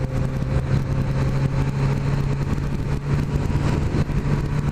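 A 2016 Suzuki GSX-S 1000 motorcycle being ridden, its engine holding a steady, loud droning tone with a strong low hum and constant wind rush, no voices over it.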